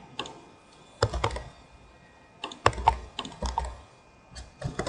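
Keys tapped on a computer keyboard in short irregular bursts of sharp clicks separated by pauses, close and fairly quiet, with no voices.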